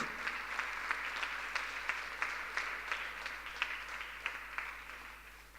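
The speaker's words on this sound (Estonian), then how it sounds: "Aplaus igal juhul." Steady, moderately loud applause from an audience at an IT College anniversary awards ceremony, continuous clapping with sharp individual claps standing out throughout.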